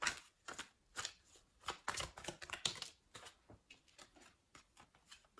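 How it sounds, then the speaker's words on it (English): Quick bursts of tarot card shuffling, crisp riffling clicks in rapid clusters with brief pauses, close and fairly quiet, no voices. "let me shuffle again"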